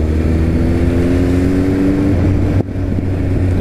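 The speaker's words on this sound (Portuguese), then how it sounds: "E bastante moto vindo." Motorcycles passing through a crowded town centre during the São Lourenço Bikefest 2023, a loud steady engine drone with a droning tone that drops away partway through, heard close to the recorder.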